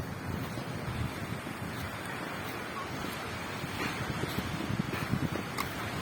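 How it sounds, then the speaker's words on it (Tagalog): Strong sea waves in the aftermath of typhoon Uwan roll and wash against a damaged shoreline road, a continuous rough surf roar mixed with wind buffeting the microphone. "Sobrang lakas ng alon"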